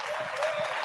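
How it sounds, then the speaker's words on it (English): Audience claps at a football league awards ceremony, a short, moderately distant burst of applause from the crowd. "please give a round of applause"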